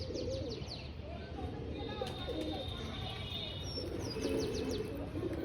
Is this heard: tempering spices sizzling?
no